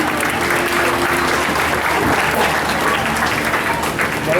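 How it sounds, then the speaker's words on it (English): Audience applause at a dolphin show at the Gulfarium, a steady, dense clapping that fills the whole stretch at close range with a faint crowd murmur underneath. "Let's give Cassie a big round of applause."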